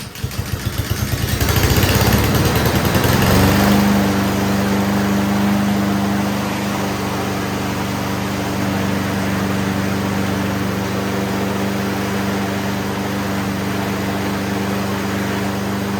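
A Husqvarna HU700F self-propelled lawn mower's small engine cranks, catches and roars up loudly, then settles into a steady, close, even running drone that holds for the rest of the stretch.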